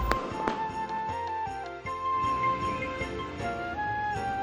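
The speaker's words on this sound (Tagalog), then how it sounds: "mabubusog naman ang iyong mga mata ng mga nagagandahang fireworks display" A fireworks display over a 45-foot Christmas tree at BGC pops and crackles in scattered bursts, mixed into a continuous wash of festive music and crowd noise at moderate loudness.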